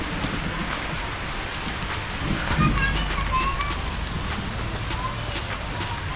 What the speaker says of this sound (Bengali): আসেন বৃষ্টিতে ভিজি।